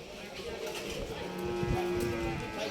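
Cattle lowing at a busy 2024 village livestock market (Hazratpur haat) in Bangladesh, one drawn-out moo rising over a murmuring crowd and market bustle, moderately close.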